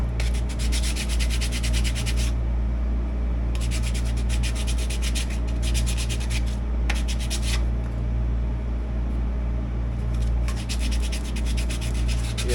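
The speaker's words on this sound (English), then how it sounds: "to knock this lip down, I'm just taking 100 grit sandpaper" Sanding a thin mold line off a plastic sprinkler valve with 100 grit sandpaper, close rhythmic scratchy rubbing strokes in bursts with short pauses between them, heard alone.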